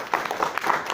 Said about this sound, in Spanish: Le damos un aplauso a Jesucristo,